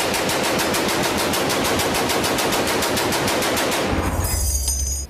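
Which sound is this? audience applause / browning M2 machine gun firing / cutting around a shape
browning M2 machine gun firing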